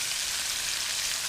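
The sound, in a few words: bacon frying in a pan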